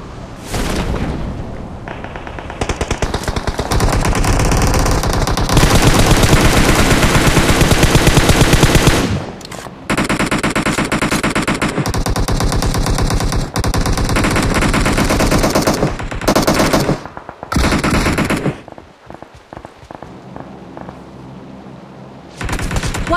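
Dense bursts of automatic gunfire from the battle game PUBG Mobile rattle almost continuously, loud and close, broken by brief pauses and a few heavier booms, with no speech over them.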